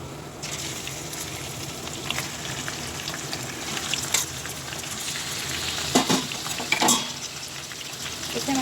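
Meat sizzles and fries in a pot with whole spices, a piece of cinnamon bark and green and black cardamom, for a chicken biryani base; a steady crackling hiss with a few louder stirring bursts near the end, no talk.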